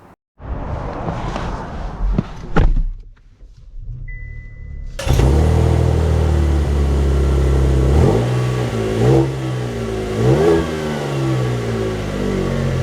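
A 2024 Chevy Traverse 1LS SUV starts up after a quiet pause, then drives off with a steady engine drone, rising several times as it accelerates, heard from inside the cabin.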